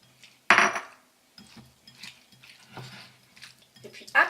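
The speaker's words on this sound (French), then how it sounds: "maintenant, on va mélanger le pamplemousse et les crevettes" Shrimp and pink grapefruit mixed together with utensils in a bowl for a shrimp cocktail, giving a sharp clink followed by softer scraping and tapping, with a final clatter at the end.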